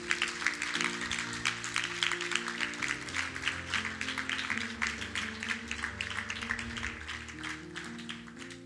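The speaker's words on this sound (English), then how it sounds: "Y'all can clap it up." Audience applause at a youth church gathering, a dense steady patter of clapping heard under sustained music with tonal notes, fairly even in level throughout.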